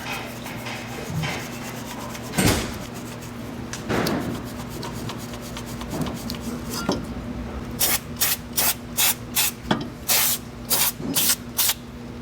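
Aerosol brake cleaner sprayed on a rusty wheel hub spindle of a Volvo XC70, heard as a row of short, sharp spray bursts in a rhythmic sequence near the end, after earlier scrubbing and handling noises.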